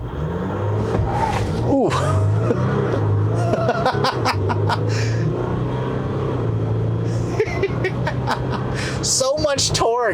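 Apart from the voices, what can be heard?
2020 Jeep Wrangler EcoDiesel launching from stop, rear tires spinning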